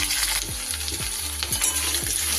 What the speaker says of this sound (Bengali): আলুগুলোকে সবার প্রথমে একটু ভালো করে ভেজে নেব।